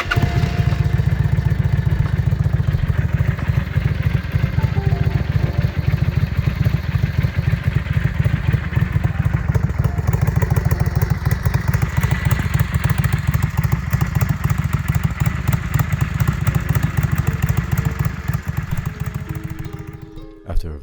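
A motorcycle engine idles loudly and up close for a sound check before a trip, a fast, even thumping pulse that runs steadily throughout with no talk, then cuts off at the end.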